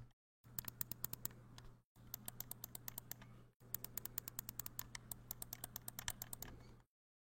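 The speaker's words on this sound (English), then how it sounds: "These are what Battle Beaver calls the smart triggers, and to me, they sound and feel exactly like a mouse click." Smart triggers on a Battle Beaver game controller click in quick, crisp bursts like a mouse button, three runs of rapid taps separated by short pauses, close and clear over a low steady hum.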